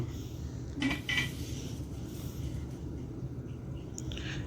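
A metal lid set on a cooking pot of tomato and onion for chicken khichuri, a couple of brief clinks and clatters near the start over a low steady kitchen hum, with a faint tap later.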